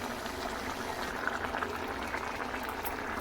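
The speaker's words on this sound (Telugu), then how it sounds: "కొద్దిగా నీరు ఎగ్గే వరకు పెద్ద మంటను ఉంచుకొని ఉడికించుకోవాలి" Capsicum and tomato curry bubbles over a high flame, giving a steady, close, low bubbling hiss that stays even throughout, with no voices.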